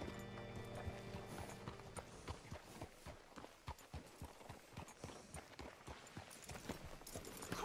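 Horse hooves clip-clop at a steady walking rhythm in the video game Red Dead Redemption 2, a crisp run of close, even hoofbeats that follows a brief musical swell at the start.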